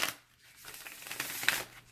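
A brief riffle shuffle of tarot cards, a soft fluttering rush of flicking edges ending in a quick snap, close and quiet.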